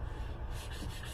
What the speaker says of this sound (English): sanding your handle, getting it ready to do what I'm getting ready to do with the bull linseed oil